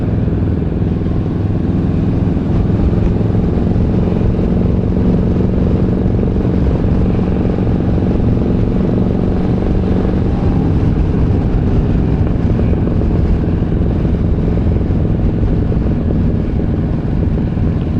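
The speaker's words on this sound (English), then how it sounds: "bike is making a lovely sound" A Harley-Davidson motorcycle with an engine upgraded to 128 cubic inches, heard while riding in a group ride-out, a loud continuous rumbling drone with wind buffeting and no speech.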